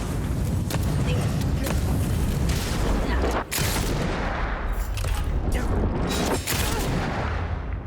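Grenade blast in the video game Avowed, a loud booming explosion amid continuous gunfire-like bursts and game combat noise, with voices talking over it.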